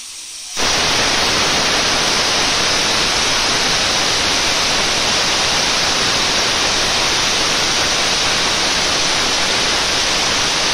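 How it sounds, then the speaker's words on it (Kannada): A pressure cooker cooking masala rice on a gas stove suddenly lets out a loud, sustained hiss of escaping steam that keeps going without pause. "ನೋಡಿ, ವಿಸಿಲ್ ಈಗ ಬರ್ತಾ ಇದೆ."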